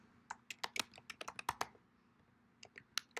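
Typing on a computer keyboard while formatting a document: a quick, uneven run of crisp key clicks, close and fairly loud, with a short pause before a few final keystrokes, no voices.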